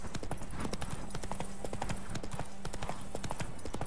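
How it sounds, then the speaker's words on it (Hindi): Dense, fast clip-clop of horse hooves galloping in The Witcher 3: Wild Hunt on PS5, a steady loud rhythm over game ambience with faint background layers and no talk. "एक बार तो घोड़ा चलाना सीख लूँ"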